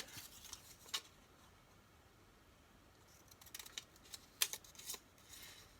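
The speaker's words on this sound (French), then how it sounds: "Je vais prendre mon ciseau, je redécoupe mon étiquette." Scissors snip a paper label during a flower-decorated car craft project, giving a few faint, sharp clicks and crisp cuts scattered over quiet room tone.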